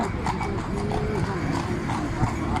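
Horse-drawn carriage hooves clip-clop in a steady, brisk rhythm on a road in Morocco, with a low rumble of traffic and faint voices in the background.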